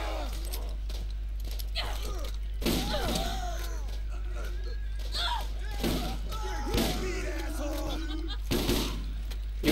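Gunfire in the Borderlands video game comes as scattered shots and thudding impacts, some loud bursts over a droning background, with voices talking and calling out in between.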